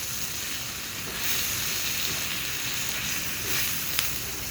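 Tawa kaleji masala, chicken or mutton liver with black pepper, sizzling loudly on a hot street-style tawa while being mixed, a dense continuous hiss with faint stirring clinks.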